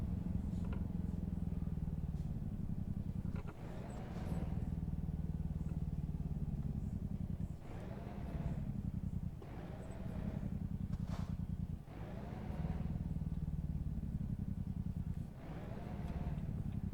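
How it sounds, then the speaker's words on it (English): An American Truck Simulator truck runs its engine brake, a droning mechanical rumble that cuts out and returns in repeated pulses, with brief clicks and hiss between them. "Not a very strong engine brake in this truck."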